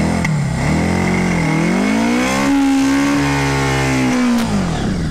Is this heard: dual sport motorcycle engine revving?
yes